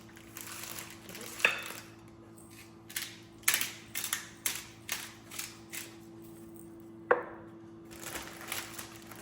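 Fresh pepper ground from a pepper mill in a quiet kitchen, seasoning chicken breasts for grilled parmesan chicken: a rhythmic series of short, crunchy, ratcheting twists, close and clear, with a few louder knocks.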